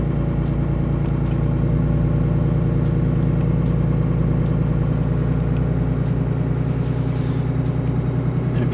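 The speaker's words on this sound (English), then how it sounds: "you're just gonna hit plus to add RPM to your idle" A 2018 Cummins 6.7 diesel pickup idles close and loud with a steady, low, rattling drone while its idle speed is raised, staying constant and dense throughout with no voices.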